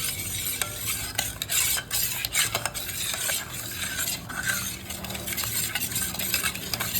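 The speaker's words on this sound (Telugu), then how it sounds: "ఒకసారి బాగా కలుపుకుందాం." A sweet prasadam mixture with sugar is stirred steadily in a pan, a continuous close scraping and rustling with light metallic clinks from the spoon, fairly loud and with no voices.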